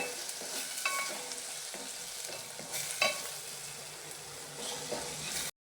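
A tempering (fonn) for Goan amat sizzles and fries in a pan while it is stirred, with intermittent scraping clinks over a soft, steady crackle.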